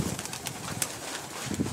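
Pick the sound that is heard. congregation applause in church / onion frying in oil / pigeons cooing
pigeons cooing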